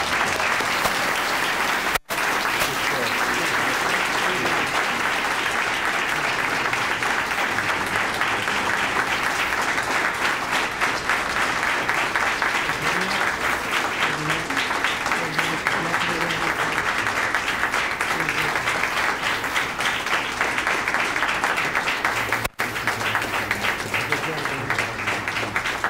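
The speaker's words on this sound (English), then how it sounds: "Let's give them both a loud round of applause." Sustained loud applause from a crowd at a police chief awards ceremony honoring recipients of a Chiefs Award for Valor, steady dense clapping throughout with brief breaks near the start and end.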